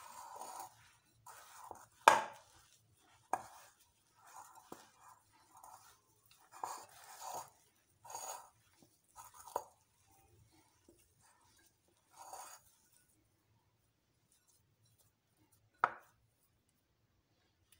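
Ingredients mixed together by hand with lemon juice make soft, squishy, intermittent squelches and light taps, quiet and close, separated by pauses of near silence.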